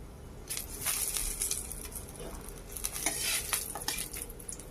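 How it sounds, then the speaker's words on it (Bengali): Dried chili, bay leaf and whole garam masala fry in hot oil in a pan, a soft sizzle under the scrape and clink of a spatula stirring against metal, fairly quiet and close. "লঙ্কাটা এবং মশলাটা একটু ভেজে নিচ্ছি"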